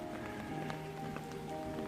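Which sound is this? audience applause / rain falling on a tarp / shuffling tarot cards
rain falling on a tarp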